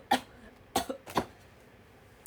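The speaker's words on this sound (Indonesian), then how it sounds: "batuk lebay" Several short exaggerated coughs, one alone and then a quick pair, each a brief burst against a quiet background, with a faint fourth near the end.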